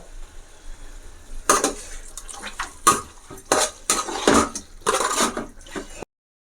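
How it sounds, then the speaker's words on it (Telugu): Chicken being mixed with ginger garlic paste in a metal pot for biryani, with repeated scraping and clanking of a spoon against the pot in uneven bursts, close and fairly loud, before an abrupt stop. "ఇప్పుడు ఈ చికెన్ అంతా ఇందులో వేసుకోవాలి వేసుకుని ఒకసారి మొత్తం అంతా కలిపేసుకోండి"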